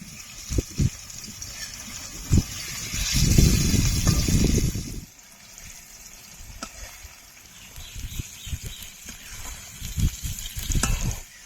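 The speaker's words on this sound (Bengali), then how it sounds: "পনিরগুলো ভেজে নেব" Paneer pieces drop into hot oil with a loud sizzle that settles into steady frying crackle, punctuated by clanks of a spatula turning them.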